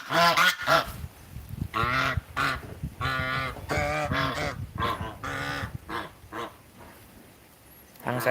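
Geese honk repeatedly at close range in a loud, continuous run of harsh calls, with no clear pauses between them.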